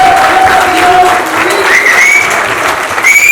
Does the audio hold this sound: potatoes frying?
no